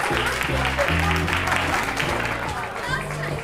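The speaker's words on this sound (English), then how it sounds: "Are you going to give him a big round of applause?" An audience applauds for a double bass player in a live band performance, with dense clapping and crowd noise mixed with loud sustained musical tones underneath.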